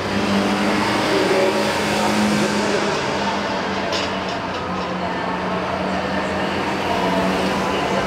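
Junior race cars start an oval race at Ter Apel, and their engines drone loudly and steadily together as they set off, with a commentator talking over them.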